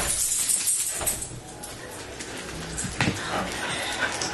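Puppies whimper and yip in short, high, close cries, scattered irregularly over a scuffling background, with a person's voice faint in places.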